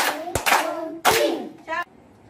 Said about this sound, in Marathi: चला तीन टाळ्या वाजवा.